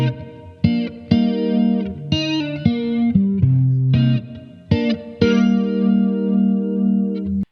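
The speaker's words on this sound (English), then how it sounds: "first guitar you heard in there was that Reverend Jetstream, and I was using the USA amplifier model, flanger modulation" Reverend Jetstream electric guitar through a Blackstar Amped 2 USA amp model playing a chordal riff with swirling flanger modulation and a wide, bright plate reverb tail, loud and close with no voices.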